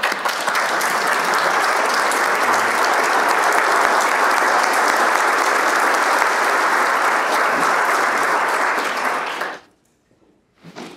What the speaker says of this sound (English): Will the participants who have achieved levels 1 through 3 please stand and let's give you a round of applause